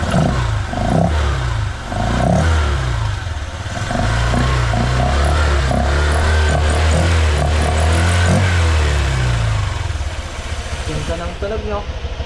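A Honda Click V3 scooter fitted with a mushroom air filter revs close by, its engine note swelling up and down in repeated throttle blips, then settling lower near the end as voices talk over it.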